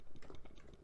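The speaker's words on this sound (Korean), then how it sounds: "자, 플러스 키를 눌러서" Quick, soft clicking of keys on a computer keyboard, a short run of light taps in a quiet room, close and faint.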